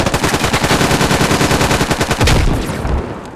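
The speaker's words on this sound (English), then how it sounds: "Noskalocki comes in, gets some shots off from Pista." Loud, close automatic gunfire from the tactical shooter Squad, a fast, evenly spaced volley of shots that ends with a heavier blast and a fading echo.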